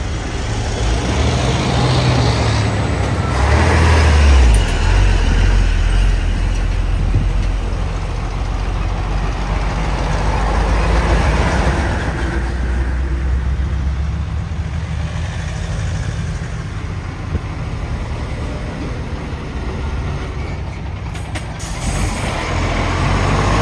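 A truck stopped partway up a steep uphill road, its engine idling loud and close with a heavy low rumble that runs steadily throughout, without any voices.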